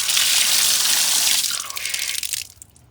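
Water gushes loudly from a newly repaired outdoor hose bib in a steady rush, then is shut off and tapers into a few splashes and drips.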